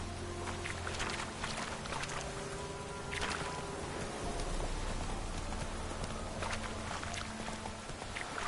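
Roach the horse galloping in The Witcher 3, a steady rapid clip-clop of hooves under dense game ambience and background noise, continuous throughout.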